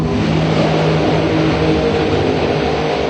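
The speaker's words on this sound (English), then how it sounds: "Hey, that's the sound of a race car." A drag race car engine at a 2012 dragster shootout roars loudly and steadily for the whole stretch, a dense, unbroken close-range drone with no voices over it.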